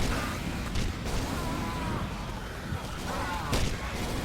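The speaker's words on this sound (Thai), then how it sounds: "ระเบิดเสียงดังป้อมป้อม" Explosions from a bomb in the video game Left 4 Dead 2 rumble as dense, continuous booming and gunfire-like blasts, with louder bursts near one and three and a half seconds, under occasional speech.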